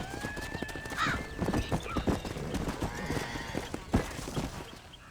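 Horse hooves clip-clopping in the video game Red Dead Redemption, with a rapid uneven stream of close hoof strikes mixed with a neigh, and low talk faintly underneath.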